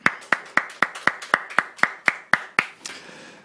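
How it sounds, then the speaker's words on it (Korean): Church congregation clapping in unison, about a dozen sharp, evenly spaced claps in a steady rhythm, close and clear, ending with a short trailing scatter of softer sound. "우리 주님께 박수 한번 하십시다."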